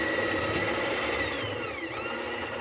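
An electric mixer runs at a low speed, whipping egg whites as sugar is added gradually for a coconut cream pie, giving a steady, continuous motor whir close by with no talking.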